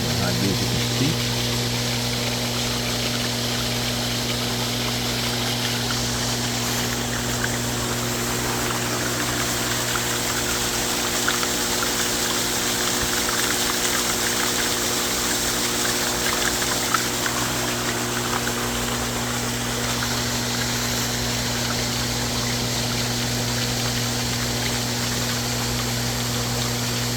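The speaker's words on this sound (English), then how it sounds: "the water that's coming out" A pool sand filter pump runs during backwashing while water gushes out, a steady mechanical hum under constant rushing water, with a voice talking at times.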